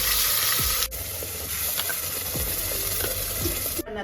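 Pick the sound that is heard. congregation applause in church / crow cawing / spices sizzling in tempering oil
spices sizzling in tempering oil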